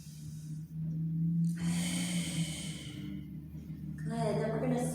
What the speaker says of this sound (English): Take one more big breath.